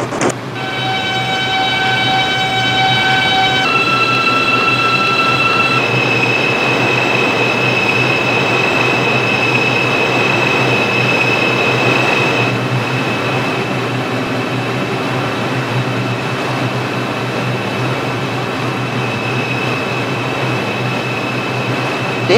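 A New York line 6 Pelham Bay Park local subway train in a simulator game runs loudly and steadily, with a constant rumble, whining motor tones that shift pitch, and high wheel squeal, without voices.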